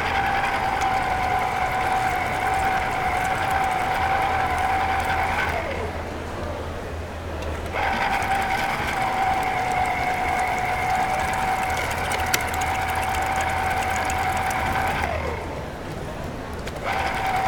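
A Citristar electric citrus juicer with a stainless steel strainer juicing oranges, a steady mechanical whirring hum that runs for several seconds, pauses briefly, then starts again, loud and close.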